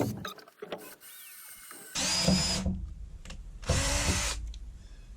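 A cordless drill cutting holes in a Promaster van roof, running in two loud, sustained bursts of about two seconds each, separated by quieter pauses filled with clicks and handling noise.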